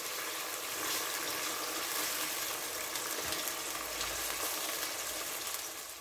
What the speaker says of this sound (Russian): раскаленное масло мы отправляем мясо обжариваться